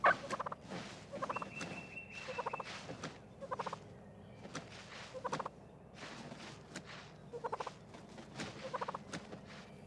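Wild turkeys gobble during mating season, a series of loud rattling gobbles repeating in bursts every second or two, close by with faint rustling between calls.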